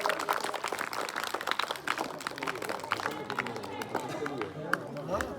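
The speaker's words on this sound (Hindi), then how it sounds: "जोरदार तालियां" An audience at an Independence Day school function claps steadily, a dense patter of many hands that carries on for several seconds with voices mixed in.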